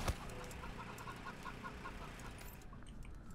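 Chickens in the video game Wasteland 3 give soft, rhythmic clucks in a short repeated series, faint against a steady background ambience.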